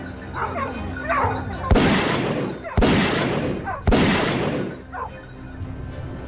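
Three loud, sharp gunshots ring out about a second apart during a wild boar hunt on a farm, each blast trailing off into a short decay, with faint voices and background noise between them.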